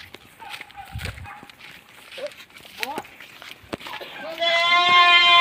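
Goat bleating on a farm, with several short wavering bleats amid shuffling and people talking, ending in a louder, sustained bleat close by.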